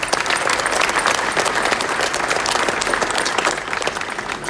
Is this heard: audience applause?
yes